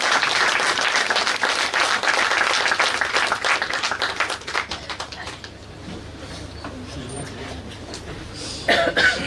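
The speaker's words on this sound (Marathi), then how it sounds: "टाळ्या वाजवा." A crowd applauds at an award ceremony for a media honour, loud sustained clapping for several seconds that tapers into a few scattered claps, a cough and low room noise, with a brief burst of claps near the end.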